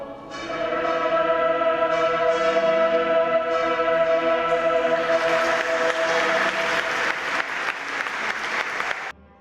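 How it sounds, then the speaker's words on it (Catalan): Loud applause from a large audience at the Misteri d'Elx, a traditional religious play, swells over a sustained chord of music, the clapping growing denser and more scattered toward the end. "Amb l'esclat dels aplaudiments del públic i la processó final"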